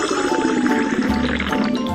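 Water pouring into a tank in a children's truck cartoon, a steady close gurgling fill with bubbly, rising liquid tones and no talk.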